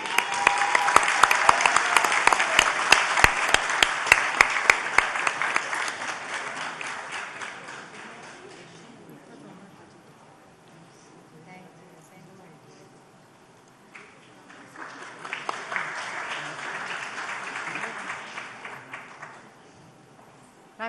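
Audience applause at an award ceremony for Nadeem Baig, a burst of loud crowd clapping with sharp individual claps that fades down, then a second swell of applause later while a voice speaks faintly underneath.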